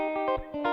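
An electric guitar played through an amplifier with the low mids cut produces a thin, bright tone, a few short strummed or picked notes ringing close and moderately loud with a slight effect sheen.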